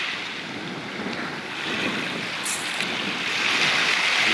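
A cold sea breeze at a Black Sea beach near Batumi gusts loudly across the microphone as a continuous roaring rush of wind, with surf in the background and swelling toward the end.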